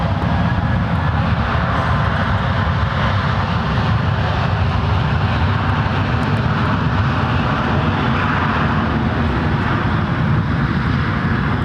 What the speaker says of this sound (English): that is WestJet Flight 1509 heading to Calgary